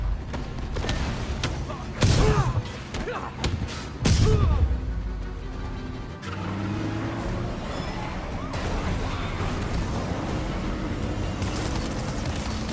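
Rockets and explosions from the Spider-Man PS4 video game burst out in heavy thuds and crashes, with two loud booms early on amid game music and character dialogue.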